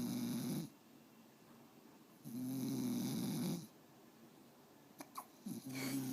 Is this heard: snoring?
yes